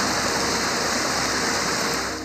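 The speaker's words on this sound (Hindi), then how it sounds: "यहाँ तो पानी का शोर भी सुकून देता है।" Rushing water of a waterfall in Kharmang district pours in a steady, dense roar, loud and continuous throughout with no voices.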